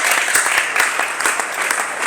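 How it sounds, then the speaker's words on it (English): Attendees at a poultry farmers' meeting clap for themselves in a brief, dense burst of applause from a crowd of hands, close and fairly loud. "let us clap for ourselves."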